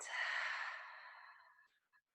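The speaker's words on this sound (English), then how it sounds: "Take a deep breath in. Breathe all the way out." A slow, deep exhale during a neck and shoulder stretching session, one long breathy rush of air that fades out over about two seconds, close and alone.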